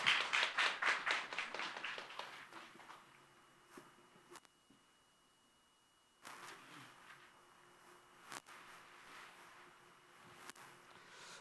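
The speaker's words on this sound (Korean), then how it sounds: "최선을 다해서 시연해준 우리 두 분에게 박수 한번 부탁드리겠습니다." At an Ebola preparedness training at Chungnam National University, a room applauds two people who demonstrated protective gear. A dense burst of clapping fades within a few seconds into a quiet room with occasional faint knocks and shuffles.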